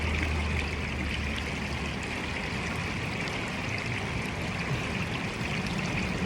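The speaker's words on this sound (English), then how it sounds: "The water is moving pretty quick in those front cells." Water rushes quickly through the front cells of a gold-prospecting sluice box, a steady, dense wash of flowing water with no talk, constant throughout.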